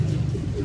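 A racing pigeon coos softly close by in a loft, a low throaty warble with no other sounds around it.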